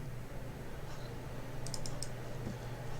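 A computer mouse double-clicked, sending out a tight little cluster of sharp, quiet clicks over a steady low electrical hum in an otherwise quiet room.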